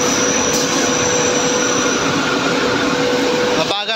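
An industrial dryer on a tile press line drones loudly and steadily with a sustained whine on top, cutting off abruptly near the end, with a voice heard over it.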